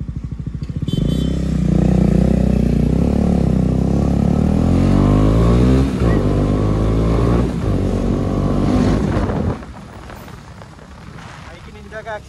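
A repaired Kawasaki Ninja 300 motorcycle idles and revs close by, a loud steady engine drone with rising and falling pitch that cuts off sharply near the end.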